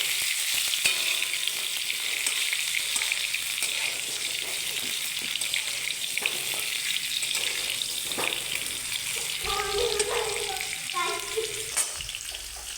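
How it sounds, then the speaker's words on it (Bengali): Potatoes fry in oil with a pinch of asafoetida, giving a steady close sizzle with occasional stirring scrapes and knocks throughout. "হিং দিয়ে এখন আলুগুলোকে ভালো করে ভেজে নেবে।"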